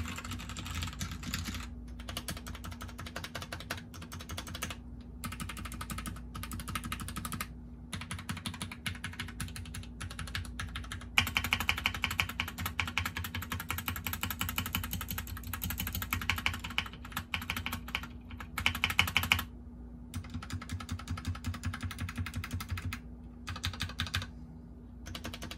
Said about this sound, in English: With all these mods and the popular Gateron Browns, I can't wait to hear this baby roar.